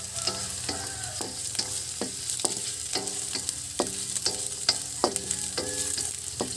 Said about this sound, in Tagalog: Halo-haloin para mag-mix. At maluto ang ating sibuyas, luya at bawang.